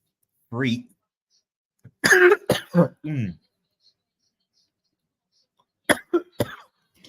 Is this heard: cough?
yes